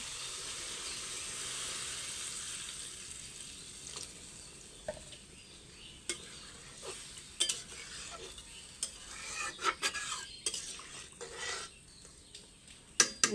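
Meat curry stirred in a pan after browning: a steady faint sizzle under scattered scraping clicks of a spoon against metal that grow more frequent toward the end, with no talking.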